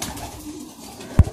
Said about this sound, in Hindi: ये रामपुरी कबूतर माशाल्लाह